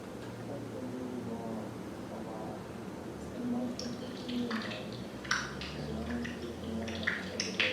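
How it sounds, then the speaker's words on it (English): Underwater brash ice in shallow water, recorded with hydrophones off either side of a boat. Faint crackles, pops and sharp ticks sit over a low murky hum, with louder snaps near the end. "So here is the underwater brash ice."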